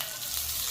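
Food frying in hot oil, a brief, continuous close sizzle with crackling texture.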